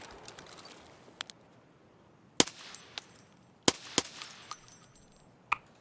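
Gunfire in the game Escape from Tarkov comes as several sharp, loud single shots spaced irregularly over a few seconds, with faint clatter between them and no talking.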